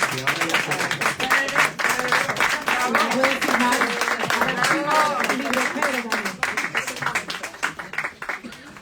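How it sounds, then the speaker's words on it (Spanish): An audience claps at a book presentation for Pedro Álvarez de Miranda's 'Medir las palabras', a dense, steady round of clapping that thins out toward the end, with voices murmuring underneath. "Un aplauso."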